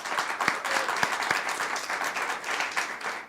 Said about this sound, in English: So round of applause for UPAF and Radio Milwaukee.